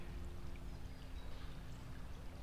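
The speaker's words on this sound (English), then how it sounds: "great chalk streams. Quite a flow to it today." A swollen chalk stream after days of rain in the Hampshire countryside, its flow a steady, dense rush of water that stays even and close throughout, with no voices.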